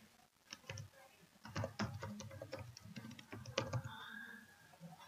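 Someone types on a computer keyboard in a quiet room, with quick irregular bursts of soft key clicks and a few short pauses.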